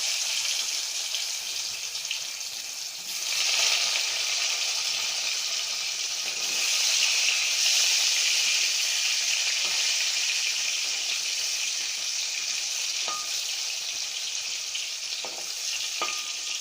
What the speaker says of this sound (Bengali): এর মধ্যে আগে থেকে নুন হলুদ দিয়ে মেখে রাখা আলুটা আমি দিয়ে দেবো ভাজার জন্য